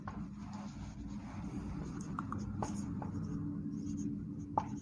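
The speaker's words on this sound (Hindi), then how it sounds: "अतः अब लिखेंगे" A pen writing by hand on paper during a Class 10 maths lesson on surface area and volume: steady close scratching strokes over a low background hum, with a few brief ticks.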